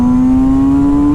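A Kawasaki motorcycle fitted with an Akrapovic exhaust pulls hard in second gear, a loud, steady engine note rising smoothly in pitch throughout.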